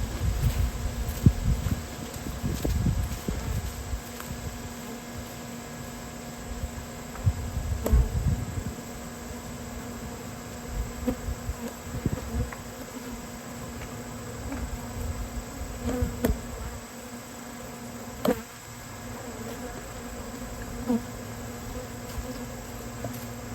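Angry bees buzz steadily and close by for the whole stretch during an open-air hive removal, with louder swells as individual bees pass near, over low rumbling background noise.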